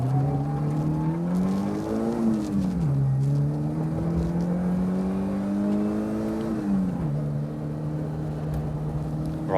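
A Fiat Cinquecento laps the Curborough sprint course on a track day, its small engine droning steadily from inside the car, pitch dipping and rising as it lifts and accelerates through a corner in third gear, with no talking.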